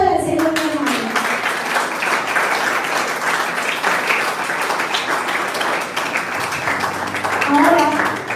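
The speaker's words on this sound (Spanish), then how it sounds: "Aplaudan al Señor, mi hermano." Churchgoers clap for the Lord during a worship service, continuous crowd clapping carried over a sustained musical or vocal bed, with tonal sounds at the start and near the end.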